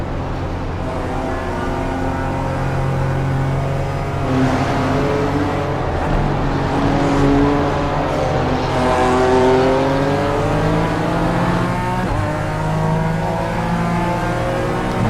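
Several BMW race cars in the iRacing BMW M Power Tour roar through a final lap, engines revving up and down with gear shifts and passing cars, loud and continuous with no talk.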